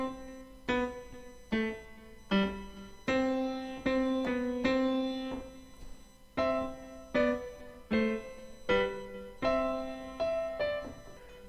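Solo piano plays a Trinity Initial Grade piece in short separate phrases of clear notes with brief pauses between them, close and moderately loud.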